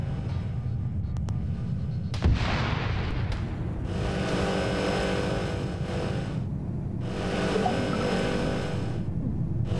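Gunfire in Arma 3 Wasteland, with a sharp shot near the start followed by long rumbling bursts and explosive blasts over a steady low roar of battle noise, and no talk.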